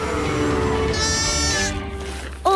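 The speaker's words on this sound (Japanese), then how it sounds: "羊？" A cartoon sheep bleats in a long, loud, wavering cry close up, followed by a short higher sound at the end.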